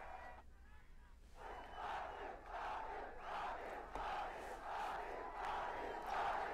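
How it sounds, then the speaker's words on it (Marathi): A large outdoor crowd gathered at a hunger strike site cheers and claps, a dense, sustained roar of many voices rising after a quieter opening and holding steady at a moderate distance. "लोकांनी मोठ्या प्रमाणात टाळ्या वाजवल्या, समाधान व्यक्त केलं, आनंद व्यक्त केला."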